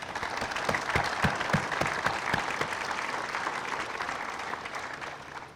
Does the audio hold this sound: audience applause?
yes